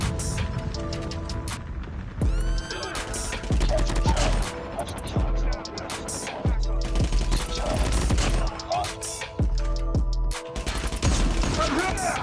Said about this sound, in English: Wow, slowest gunfight ever.